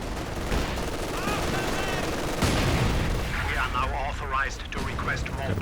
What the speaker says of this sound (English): Got a bit of base howitzer fire coming in.